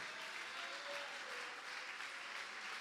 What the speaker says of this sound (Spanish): Denle ese aplauso al Señor esta mañana.